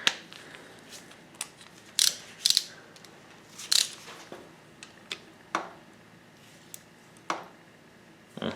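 A torque wrench tightens bolts on the top end of a 2010 Yamaha YZ450F. Sharp, sparse clicks and small metallic ticks ring out one at a time over a quiet workshop background.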